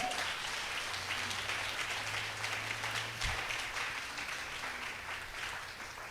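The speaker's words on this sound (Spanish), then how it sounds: "Si le vas a dar un aplauso, dáselo recio." Church congregation applauding steadily for several seconds, a dense even wash of clapping across the room with a low hum underneath and one brief thump midway.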